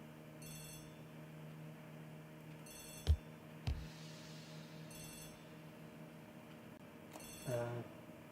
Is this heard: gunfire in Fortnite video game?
no